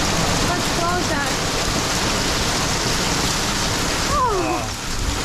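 Hail falls hard on a boat, a loud dense hiss of pelting ice that goes on steadily, with faint voices in the background and a brief high squeak near the end.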